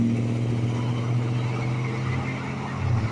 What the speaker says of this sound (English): Sorry for the loud truck